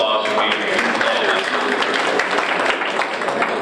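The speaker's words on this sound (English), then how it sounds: "please give yourselves a round of applause for being here" An indoor audience at a San Antonio city parks bond committee meeting claps together, a dense, continuous patter of many hands that stays fairly loud and even from start to finish.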